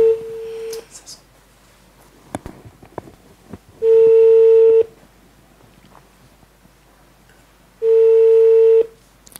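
A telephone ringback tone sounds in three long steady beeps spaced about four seconds apart, loud and clear while a call waits to be answered, with a few faint clicks and handling noises between the rings.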